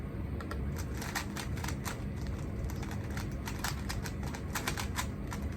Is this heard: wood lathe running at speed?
no